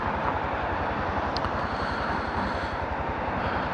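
A Honda Monkey motorcycle engine runs steadily with a fast, even low thrum, heard close and continuous.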